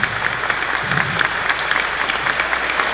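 Audience at a 1994 physics graduation ceremony applauding as honorees' names are called, a steady, dense clapping from many hands at moderate distance, continuous for the whole stretch.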